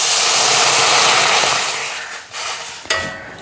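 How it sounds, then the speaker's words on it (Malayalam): Water pouring into a hot pan of heated tea powder, a loud steady hissing sizzle that fades gradually, ending with a brief clatter. "ഇനി നമുക്ക് ഈ വെള്ളം അങ്ങ് ഒഴിച്ചു കൊടുക്കാം"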